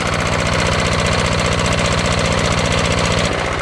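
A 5000W diesel generator engine runs at a steady idle, loud and close, with an even, rapid chugging knock throughout and no voices.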